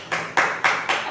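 A preacher claps his hands four times in a steady, evenly spaced rhythm, sharp and close, mimicking the devil applauding during a church communion service.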